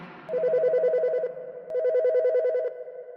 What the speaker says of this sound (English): In the afternoon, the phone finally rang.